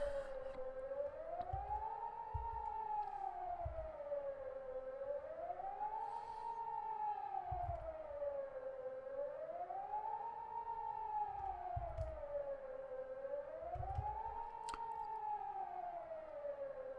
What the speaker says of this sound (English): More emergency sirens.